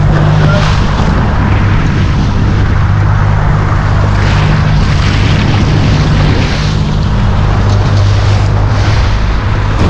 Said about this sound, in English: Windy, choppy conditions.